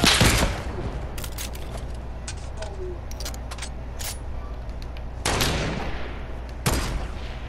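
Semi-automatic rifle shots in the Fortnite video game ring out as loud, spaced single cracks: one at the start and two more close together later, with lighter clicks and game noise in between.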